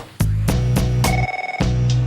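A telephone rings in repeated sharp bell bursts, close and loud, with steady tones between strikes and no talking.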